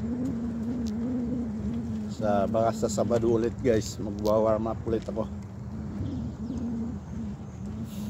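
Pigeons or doves being fed, cooing in short bursts at close range under someone talking over steady background noise.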